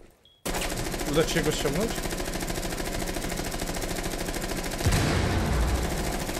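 Rapid automatic gunfire from enemies in the Rainbow Six Siege video game, loud and close, rattling continuously with a heavier burst near the end while players talk over it.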